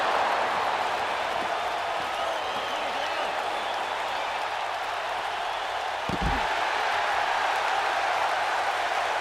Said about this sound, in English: As the crowd seems to be behind Bryan at the moment.